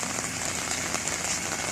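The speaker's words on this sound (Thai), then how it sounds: "ฝนตกเนาะ" Steady rain patters on a surface, a dense, even hiss of drops close by with no break.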